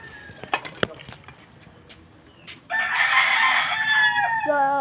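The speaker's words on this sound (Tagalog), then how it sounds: "mga manok" Outdoors, a rooster lets out a loud, drawn-out crow near the microphone after a few scattered clucks and knocks from nearby chickens.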